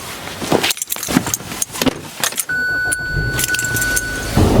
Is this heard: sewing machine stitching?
no